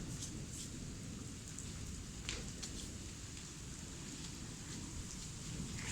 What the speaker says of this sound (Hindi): बहुत सारी बारिश हो रही है।